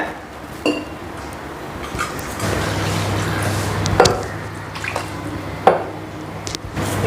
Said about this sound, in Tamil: இதை ஒரு விஸ்க் வச்சு கொஞ்சம் கொஞ்சமாக தண்ணி சேர்த்து கட்டி இல்லாமல் கரைச்சிக்கோங்க